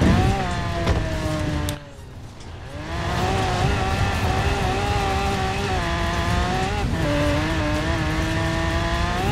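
A Lamborghini Aventador driving offroad in the Forza Horizon 4 racing game, its loud engine howling steadily near the listener, dipping briefly during a gear change before rising again, with engine pitch wavering over rough terrain.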